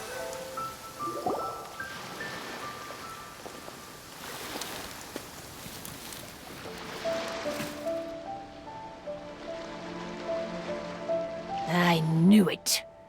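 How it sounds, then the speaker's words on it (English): Rain falls steadily in Genshin Impact during the Akitsu Kimodameshi event, a continuous hiss layered with music and game tones, rising to brighter effects near the end. "If this rain keeps up, my fur will be dripping wet."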